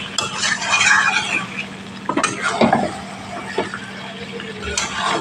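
A spatula scrapes and stirs chicken kosha with small new potatoes in a pan, with intermittent metallic clinks and scrapes over a soft, steady sizzle of frying, close up and without talk.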